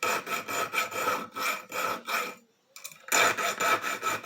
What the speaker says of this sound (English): we're going to just file down the spine of and kind of round them off a little bit